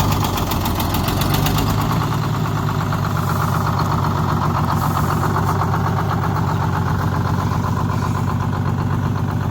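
A vehicle engine runs steadily with throttle applied during a Texas silversides rescue, a loud continuous low throbbing hum with a faint knocking texture and no talk over it.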